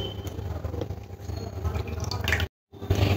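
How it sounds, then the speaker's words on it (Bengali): Starchy water drips and trickles close by from squeezed grated potatoes as aloo lachha pakora batter is prepared, a soft continuous patter that cuts out briefly near the end. "আলুগুলো খুব ভালো করে জল থেকে চিপে চিপে তুলে নিয়েছি। এই দেখুন জলটা কতটা কষ বার হয়েছে আলুর।"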